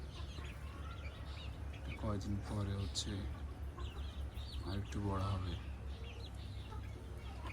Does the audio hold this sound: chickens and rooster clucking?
yes